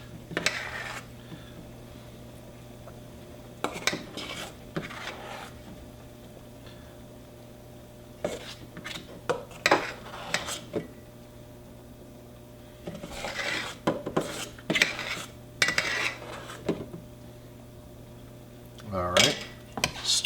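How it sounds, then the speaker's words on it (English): A spoon dragged around a pot of potato soup, giving scattered bursts of scraping and rubbing against the metal separated by quiet pauses, close and fairly soft, with no speech over it. "All right, stir that up."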